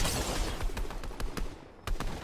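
Rapid gunfire in the video game Fortnite, a string of sharp, closely spaced shots cracking over a dense background, loud and with a brief pause before two final bursts.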